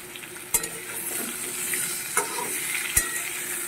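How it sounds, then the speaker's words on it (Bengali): Potato and papaya pieces fry in a pan, giving a steady bright sizzle with occasional sharp clacks of a utensil stirring against the pan, close and alone with no voices. "পেঁপেটাও একটু ভেজে নেব"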